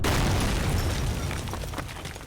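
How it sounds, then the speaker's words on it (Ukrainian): An explosion goes off in the Penumbra video game, a loud, full-bodied boom that starts immediately and slowly rumbles and crackles away over a couple of seconds. "Хватить вибухати."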